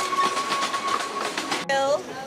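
A train running on the rails in Argentina, a steady rumbling clatter of wheels with a faint tonal whine, close by and continuous, shifting abruptly near the end as the sound changes.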